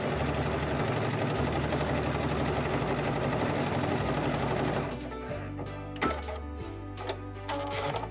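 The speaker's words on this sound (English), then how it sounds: "Couching over your favorite decorative yarns and threads is easy with the digital dual feed on the Baby Lock Destiny." Baby Lock Destiny sewing machine stitching with its digital dual feed to couch decorative yarn and thread, a steady close mechanical whir that runs continuously for about five seconds, then turns into quieter, intermittent stitching bursts.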